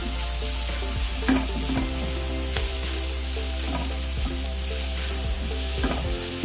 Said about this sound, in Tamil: சால்ட் போட்டு மறுபடியும் நல்லா ஃப்ரை பண்ணிட்டு